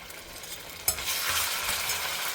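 Ginger garlic paste hitting hot groundnut oil in a pan, a sudden loud sizzle that swells into a continuous close crackling fry, with faint stirring and no voices.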